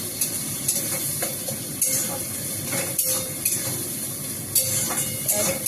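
A ground paste of onion, ginger, garlic and tomato sizzles steadily in a hot pan, with repeated stirring strokes and occasional metal clinks against the pan.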